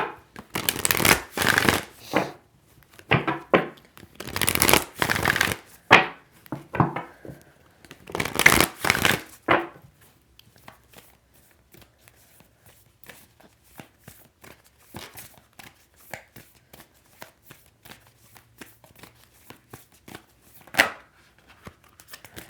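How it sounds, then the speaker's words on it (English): Tarot cards are shuffled close up in brisk riffling bursts for about ten seconds, then give way to sparse soft taps and slides of cards on a table, with no talking. "I like when the cards turn all the way around or hit the table."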